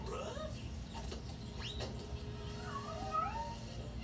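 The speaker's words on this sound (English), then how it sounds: "This place is crawling with cats." Several cats meow and caterwaul in rising and falling cries, moderately close, over a constant low hum.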